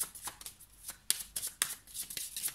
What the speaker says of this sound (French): on va prendre quelques cartes de cet oracle pour avoir des messages clés par rapport à vous